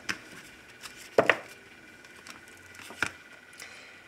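A deck of tarot cards is cut on a table during a love reading, giving a few soft close taps and slaps, including a quick double snap near the middle, against a quiet room with no talking.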